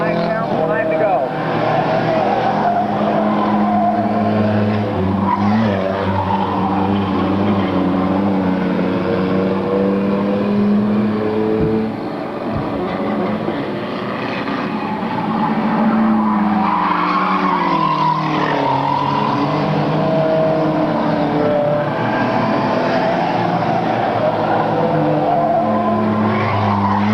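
Race cars circle a track during a 1998 race, engines roaring loudly and continuously with tire skids, while a commentator talks over the noise throughout.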